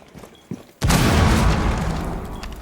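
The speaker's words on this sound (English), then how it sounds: "Tossing a frag." A frag grenade detonates in an Xbox shooter match with a sudden, loud boom after a couple of quieter clicks, then a broad rumbling roar slowly tails off over two seconds.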